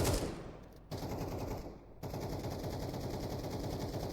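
Rapid automatic gunfire in a video game rattles in sustained bursts, loud and dense, with two brief pauses before the shooting resumes.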